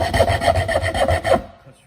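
A Magic Saw hand saw cuts straight through wood in about five steady rasping strokes, each stroke rubbing loudly and close before the sawing stops and leaves near silence.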